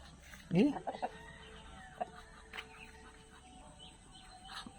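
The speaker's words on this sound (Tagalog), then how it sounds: "Malaking manok yan." A large chicken of about seven kilos clucks a few times nearby with short, quiet calls, then more faint clucks follow. Light background noise runs under the birds.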